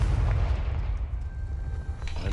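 The Confringo spell from the Hogwarts Legacy video game goes off as a deep, rumbling explosion, loud and booming throughout a short burst with a lingering low roar.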